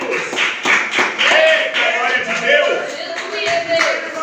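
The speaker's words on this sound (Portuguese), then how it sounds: "pode bater as palmas, pode adorar a Ele" A church congregation claps together in a steady rhythmic beat, with voices singing or calling along in a lively, reverberant space.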